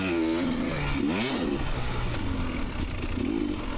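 A 2019 KTM 250xc two-stroke dirt bike on an off-road trail at Johns Peak OHV revs and bogs continuously, its engine pitch rising and falling in quick, close, loud sweeps.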